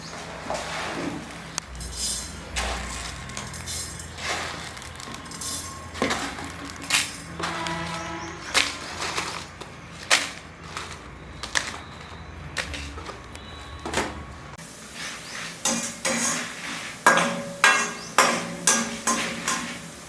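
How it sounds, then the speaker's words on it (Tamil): Coriander seeds, rice, dried red chillies and vadagam are added one by one to oil in a pan for brinjal tamarind kuzhambu, with repeated clinks and taps of a spoon on metal and a soft background sizzle. "இப்போது வறுக்கிறதுக்கு ஒரு ஒரு சாமானாக போடுறேன்"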